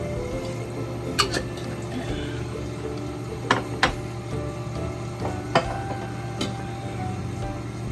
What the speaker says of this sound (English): I'm just going to use the stock. So I'm going to go in with the stock here, like this.